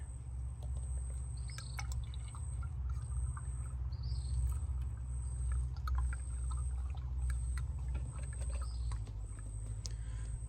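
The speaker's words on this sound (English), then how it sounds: "now I'm gonna pour in the oil on the engine" A steady, low gurgling pour of 0W-20 motor oil into a 2017 Toyota 86 engine, with faint drips, continuous and quiet against a low hum, with occasional light clicks.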